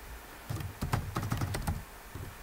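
Fingers type on a computer keyboard in a short irregular burst of soft close key clicks, pausing briefly before a few more taps, with no talking.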